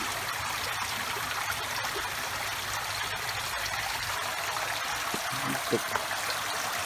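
Steady rushing water runs without pause from a pump-fed artificial garden waterfall, a constant broadband wash spilling into a pool, with faint background sounds underneath.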